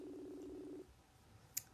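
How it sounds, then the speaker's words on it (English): A telephone call rings out: a steady, low ringback tone holds for just under a second, then stops, leaving quiet line hiss and a single faint click. "We're still ringing on Mark"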